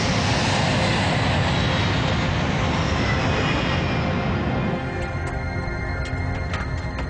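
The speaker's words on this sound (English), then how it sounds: "Flight 96 lifts off from Detroit Airport" A passenger airliner roars down the runway and lifts off from Detroit Airport in the evening, a loud, steady broadband jet engine rumble that eases slightly as the aircraft climbs away, with faint higher tones near the end.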